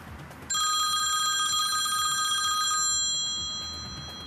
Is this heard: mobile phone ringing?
yes